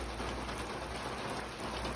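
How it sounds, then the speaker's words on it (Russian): A steady May downpour hisses evenly and continuously, the dense patter of heavy rain on surfaces heard alone, moderately loud with no talking. "Ливень."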